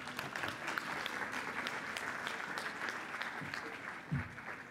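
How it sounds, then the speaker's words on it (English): Steady audience applause fills the conference room, a dense wash of clapping at moderate level throughout. "Please give her a round of applause."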